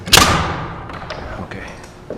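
A single sharp nail gun shot drives a nail into wooden wall stud framing, a loud close crack and thud at the start, followed by fainter taps and clatter in a quiet construction space.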